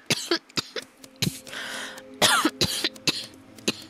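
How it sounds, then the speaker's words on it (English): Several short, sharp coughs in a row, close to the microphone, with brief pauses and a faint throat-clearing rasp between them. "don't cough"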